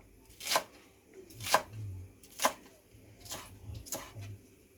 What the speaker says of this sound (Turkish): Neyse ben şu soğanları doğradım.